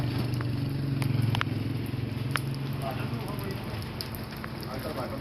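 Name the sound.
rain falling outside the biryani factory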